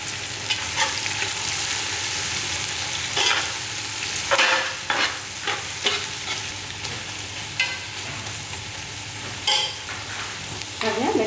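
Onions frying with mint and coriander leaves for seeraga samba mutton biryani, a constant close sizzle broken by scattered scrapes and stirring clatters.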